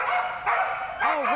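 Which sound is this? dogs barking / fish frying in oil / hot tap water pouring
dogs barking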